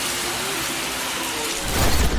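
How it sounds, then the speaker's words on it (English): Late summer rain in Carolina hisses as a dense, steady wash of falling drops, close and continuous, swelling slightly near the end. "Late summer rain in Carolina."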